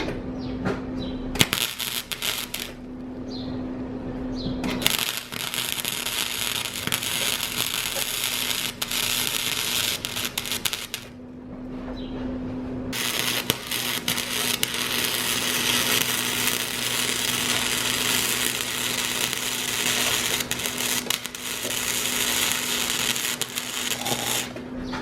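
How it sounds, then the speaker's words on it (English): Arc welding a bead onto a Honda Accord exhaust pipe where a stolen catalytic converter was removed, a steady loud crackling buzz running in two long stretches with a short pause between them, no talking. "Let's go ahead and see if we can weld the bead around that."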